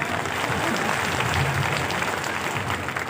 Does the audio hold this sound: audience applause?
yes